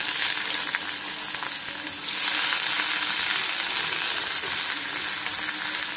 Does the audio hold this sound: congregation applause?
no